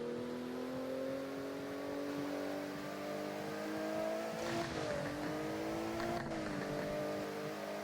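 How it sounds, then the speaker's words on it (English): A Porsche car engine in the video game Driving Empire drones steadily, then revs up and shifts twice with quick whooshing dips, loud and continuous, no talking. "still sounds pretty good, and you can hear that Porsche"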